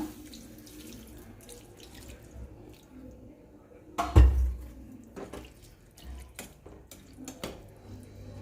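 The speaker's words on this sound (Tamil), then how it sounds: "இப்போ தண்ணி சேர்த்துக்கலாம்." Water runs from a tap into a pot of dal for vegetable sambar, with a louder splashing surge partway through and a few clinks of cookware; no one speaks.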